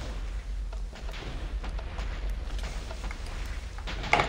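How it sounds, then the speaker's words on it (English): Fireballs burst repeatedly in the Minecraft TNT Wizards game, a steady rumble of distant muffled explosions with scattered pops and one sharper blast at the end. "There's fireballs everywhere"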